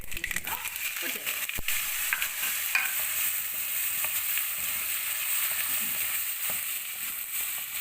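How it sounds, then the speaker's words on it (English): Potato pieces with turmeric frying on high flame in a pan, a steady loud sizzle running throughout, broken by scraping stirs and the occasional clink of the spoon against the pan. "I will just fry the pieces of potato"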